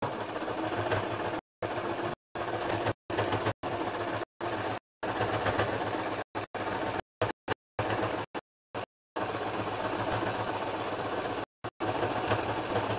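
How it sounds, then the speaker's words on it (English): A sewing machine labors through a thick stack of fabric layers, its motor running loud and steady in rough, knocking bursts that repeatedly cut out to brief silences. "My machine sounds like it's falling apart because it's going through so many layers right now."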